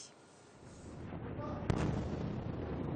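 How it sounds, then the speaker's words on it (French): A distant explosion in the Gaza Strip thuds sharply over a deep, continuous rumbling roar that swells and lingers. "Les explosions retentissent à nouveau dans la bande de Gaza."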